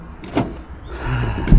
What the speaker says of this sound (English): and then I can shut both doors